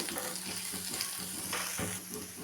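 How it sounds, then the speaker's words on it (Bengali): Chopped onion and green chilli frying in a pan alongside a salted fried egg, a steady close sizzle with occasional soft stirring scrapes throughout. "দিলাম পেঁয়াজ কুচি, দিলাম লঙ্কা কুচি, একটু ভেজে নেব।"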